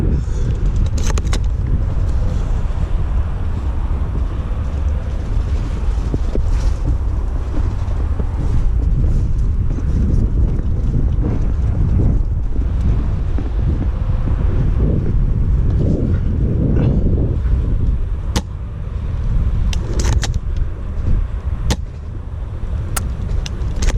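Steady wind roars across an outdoor airsoft field, a constant low rumble buffeting the microphone for the whole stretch with slight gusts and no one talking.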